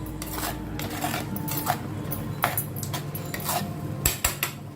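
A metal lid clinks and clatters against a cooking pan in a home kitchen as spiced masala cooks for a chicken lunch dish, with several sharp taps close by over low background noise.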